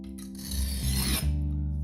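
An old 31-year-old Henckels kitchen knife is drawn along a sharpener in one close, steady rasping stroke, heard alone with no talk.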